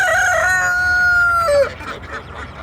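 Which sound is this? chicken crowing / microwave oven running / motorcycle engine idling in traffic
chicken crowing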